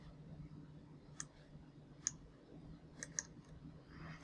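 A computer mouse clicks several times while a folder is selected in software, each click sharp, short and faint, spaced irregularly over a low background hum.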